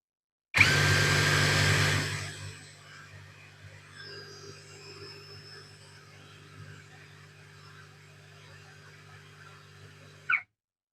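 A Kepu 20V brushless impact driver with an A3 socket runs in reverse at a single constant speed. It gives a loud, close whir for about two seconds, then spins down to a quieter running hum, and a brief click comes at the end.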